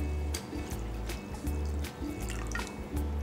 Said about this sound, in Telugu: ఒక అరగంట ముందు ఇలా నీళ్లు పోసుకొని నానబెట్టి పక్కన పెట్టుకోవాలి.